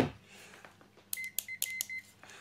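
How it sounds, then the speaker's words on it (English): A Fluke multimeter on its continuity setting gives a run of short, sharp electronic beeps in quick succession, close and clear, after a few faint clicks of the probes touching a connection. "Little beep there."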